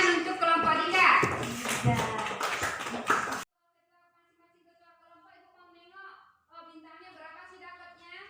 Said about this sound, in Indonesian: Tepuk tangan untuk kelompok Dika.